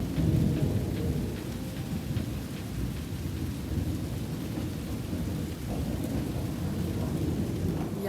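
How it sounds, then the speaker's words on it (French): Thunderstorm with heavy rain pouring steadily and deep rumbling thunder rolling underneath, loud and continuous throughout with no voices. "c'est vraiment la rapidité des éclairs. C'est hallucinant."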